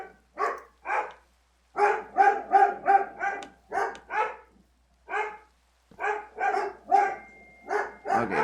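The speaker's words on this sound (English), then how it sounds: "I can hear those dogs, bro." Several dogs bark in repeated bursts, a quick run of sharp barks followed by scattered single barks with pauses between, fairly close and clear, with no talking over them.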